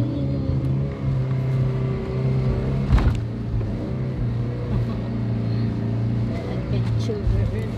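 A four-wheel-drive vehicle drives across sandhills along a wild rugged coastline, its engine droning steadily with rises in revs, while people talk and exclaim over it.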